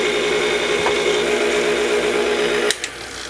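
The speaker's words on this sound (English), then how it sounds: "add 3 eggs, but each egg 1 at a time. Mix it in completely" An electric mixer drones steadily as it beats eggs into cheesecake batter, loud and continuous, then cuts off abruptly near the end with a brief clatter.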